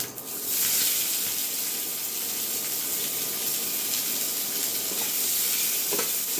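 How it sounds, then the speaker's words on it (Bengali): Chopped onion hits hot oil with black cumin and slit green chillies, setting off a loud, steady sizzle that fills the whole stretch close up, with faint stirring and no voices. "আর দিয়ে দেবো এই সময় পেঁয়াজ কুচি"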